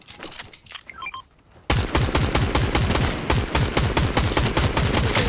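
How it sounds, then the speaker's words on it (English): Rapid automatic gunfire in the Fortnite video game, a loud continuous burst of dense shots starting abruptly after a short lull of quieter game sounds and beeps. "We got shooting over here."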